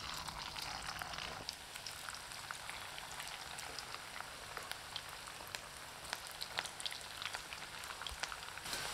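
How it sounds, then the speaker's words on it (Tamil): Cauliflower deep-fries in hot oil, giving a soft, even, rain-like crackle of fine bubbling with scattered tiny pops, faint and unchanging across the whole stretch. "இப்போ எண்ணெய் காஞ்சிச்சுங்க காலிஃப்ளவரை பொறிச்சு எடுத்துக்கலாம்"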